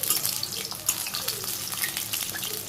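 Vegetable fritters (bora) crackle and sizzle in hot oil in a village kitchen, a steady dense frying hiss with small pops throughout, close and fairly loud.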